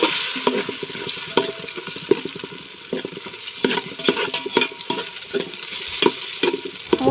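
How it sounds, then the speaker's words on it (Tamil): Four beaten eggs being stirred in a pan of hot oil, a steady sizzle of frying under repeated scraping and clicking strokes of a utensil against the pan, close and fairly loud throughout. "4 முட்டையை உடச்சி ஊற்றிட்டு முட்டையை நல்லா கிளறி விட்டுக்கோங்க."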